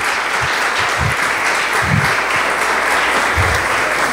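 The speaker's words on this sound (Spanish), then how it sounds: "Les pido un aplauso para recibir a nuestro ponente" Sustained applause from a conference audience welcoming a speaker to the stage at a talk on artificial intelligence, a steady dense wash of many hands clapping throughout, fairly loud and close.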